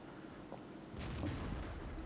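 A tank cannon round from an AT2 slamming into a TOG in World of Tanks: one heavy booming impact at about one second, trailing into a low rumble, fairly faint.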